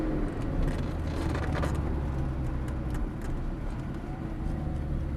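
Lamborghini Gallardo supercar being driven, a steady low engine drone with road noise inside the cabin, holding at an even level without revving.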